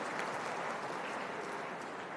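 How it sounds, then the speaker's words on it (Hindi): A hall audience claps together at a Brahma Kumaris spiritual talk, a dense, steady wash of applause lasting a couple of seconds with no voice over it. "वाह, ताली बजाइए अपने लिए"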